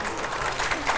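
An audience at a philosophy debate on paradoxes claps steadily and loudly in a dense, continuous wash of applause.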